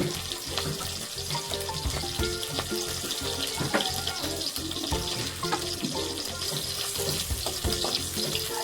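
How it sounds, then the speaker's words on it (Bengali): Dry red and fresh green chillies fry in hot oil in a pan on low gas, a dense, continuous crackling sizzle with scattered pops, close and steady throughout, no voices. "লঙ্কাগুলোকে একটু ভাজা ভাজা করে নিতে হবে"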